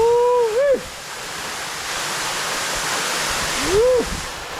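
A waterfall in St. Vincent and the Grenadines roars as a constant broadband rush, close and loud, with brief whoops from a person at the start and near the end.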